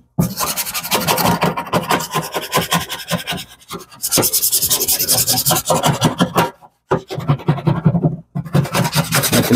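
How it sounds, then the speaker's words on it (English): A scraper rasps algae off the glass of a fish tank in steady, close, continuous rubbing strokes, with a few brief pauses between passes and no talking. "Continue to scrape all this off."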